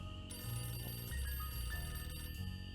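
Telephone bell ringing in the Nancy Drew Ghost Dogs video game, a faint, sustained electronic trill with a steady tone, heard alone without any voices.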